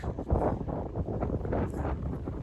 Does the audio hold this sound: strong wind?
yes